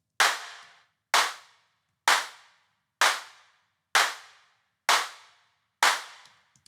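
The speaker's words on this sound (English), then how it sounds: "And I think you can have a lot of reverb on the claps." Designed clap sound with heavy reverb, seven crisp sharp claps at a steady even pace about one second apart, each trailing off into a long decaying reverb tail.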